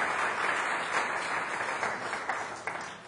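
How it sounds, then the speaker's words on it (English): Audience applause at an evening graduate school program event, a steady, moderately distant wash of many hands clapping together. "I'd like to offer applause for him as well."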